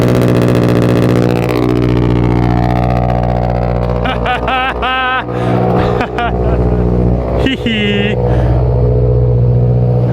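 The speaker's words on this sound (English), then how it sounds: "Another cold start for the boys coming up" A Subaru WRX with a new exhaust pipe cold-starts loud and close, settling into a rumbling idle with a couple of sharp revs midway, while a voice talks over it.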